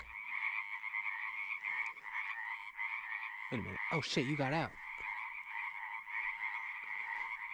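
Wild frog croaking steadily in a sustained, dense chorus, joined midway by a brief splashing scuffle; someone speaks over it.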